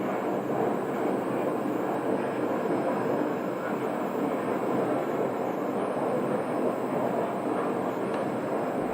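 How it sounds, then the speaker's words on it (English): An aircraft at Scottsdale airport idles and taxis toward the runway for departure, a steady distant engine hum and whine that holds even for the whole stretch, with no talk over it. "We have a Pilatus PC-12 also down there at the end of the runway, and they're also waiting for departure."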